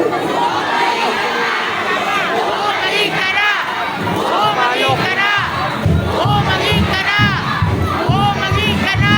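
A large crowd at a Philippine political rally shouts and cheers together continuously, voices overlapping in a loud, rolling chant with children's high-pitched calls mixed in.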